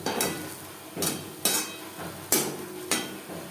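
Drumstick leaves with coconut are stirred in a pan over a low flame. About five sharp spatula scrapes come at an uneven pace over a faint background sizzle, with no voices.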